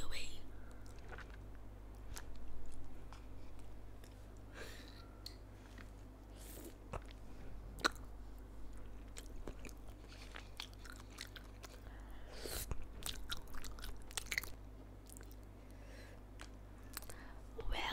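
Spicy tteokbokki rice cakes are bitten and chewed close to the microphone in an ASMR setting, giving soft, sticky, squishy mouth sounds and small clicks over a low hum, with quiet talk in between.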